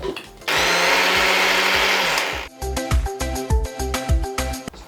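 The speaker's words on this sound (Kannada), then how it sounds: "ಇದನ್ನು ಮಿಕ್ಸಿ ಜಾರಿಗೆ ಹಾಕೋಬೇಕು" A kitchen mixer grinder whirs loudly as it grinds roasted gram, sesame seeds and cardamom, one steady burst followed by several short pulsed spins with rattling.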